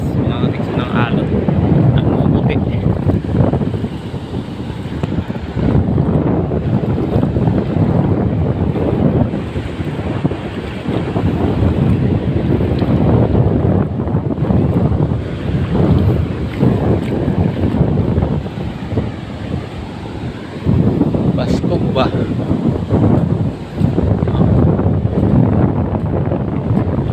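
Strong wind and heavy sea waves on a coast in Romblon during low-pressure weather, with loud, continuous wind buffeting the microphone over a dense, surging roar of surf.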